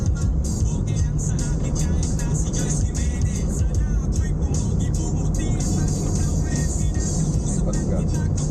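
Jeep engine running, a loud continuous rumbling drone with steady low-end roar and rattling mechanical texture throughout, heard from close by as if riding inside.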